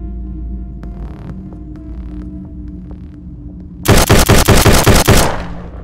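Rapid automatic gunfire in the VR battle royale game Stand Out, a loud burst of closely spaced shots arriving after several seconds of low droning hum and scattered faint clicks.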